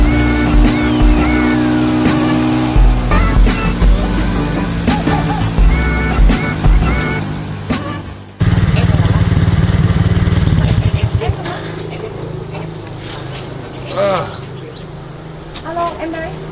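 A bus riding along a road between Hanoi and Ha Giang, with continuous engine drone and road rumble, a sudden shift in tone midway, and passing vehicles over the steady hum.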